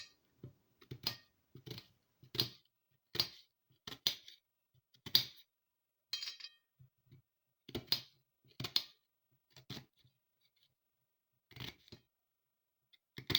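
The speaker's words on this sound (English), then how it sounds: "So I'll go ahead and cut the onions into a blendable size." Crisp, repeated knife chops through onions on a cutting board, a dozen or so strikes in an uneven rhythm with short pauses, close and fairly quiet.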